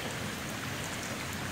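Heavy rain pours down in a dense, loud, steady roar of drops with no voices.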